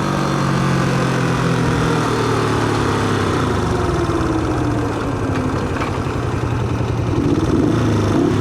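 A vintage 1970s Honda CB360 motorcycle engine idles steadily and loudly up close, a continuous low throbbing rumble with no talking.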